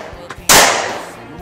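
A Star M9A1 9mm pistol fires a single loud, close shot with a sharp crack and a short decaying ring, preceded by a few faint handling clicks.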